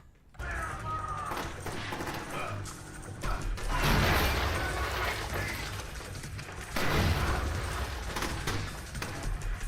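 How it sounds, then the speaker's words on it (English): Grenades bursting in the stealth game Splinter Cell Chaos Theory: heavy booming blasts and crashing debris, one big burst near four seconds and another near seven, over a continuous rumbling battle din. "they're throwing grenades"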